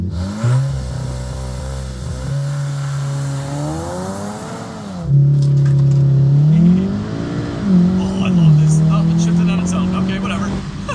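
Volkswagen Golf R fitted with a bigger turbo and a louder exhaust, accelerating hard through gear shifts; the engine note climbs, drops at each shift and climbs again, loud and close, with a voice talking over it.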